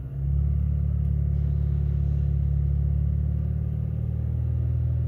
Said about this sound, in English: When we rev it, does it come down?